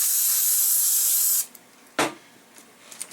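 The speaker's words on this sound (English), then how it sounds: "we're going to spray" A steady, loud hiss of spray adhesive from an aerosol can onto polytarp runs for about a second and a half, stops, then a second short burst follows.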